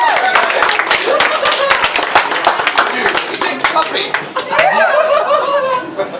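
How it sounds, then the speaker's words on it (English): Comedy club audience at a stand-up show in Bangkok claps and laughs loudly, a dense close burst of applause mixed with chuckles and cheers throughout. "Give her a round of applause."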